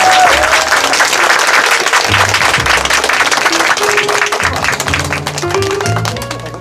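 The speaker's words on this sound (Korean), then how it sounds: "저는 박수로 함께 모셔보겠습니다" Audience applause at a book talk for a poet held at a bookshop, with a dense, loud burst of clapping from a seated crowd that carries on steadily for several seconds without speech.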